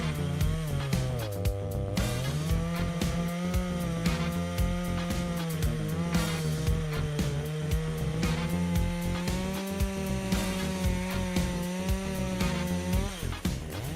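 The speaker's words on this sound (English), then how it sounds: "it deftly solves the challenge of felling an ancient tree and processing the wood" A heavy-duty chainsaw fells an ancient tree, its engine holding a loud, continuous droning whine close by that wavers slightly in pitch throughout.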